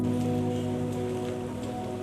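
Rain falls on a surface as a continuous soft hiss, blended with a sustained musical tone underneath.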